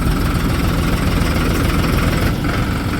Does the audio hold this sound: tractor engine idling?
yes